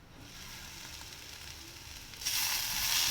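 Tomatoes cooking for paneer bhurji in a pan covered with a lid give off a steady close sizzle, which swells brighter and louder near the end.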